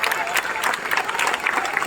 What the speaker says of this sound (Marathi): भाई आवाज बघा टाळ्यांचा भाई एकदम खतरनाक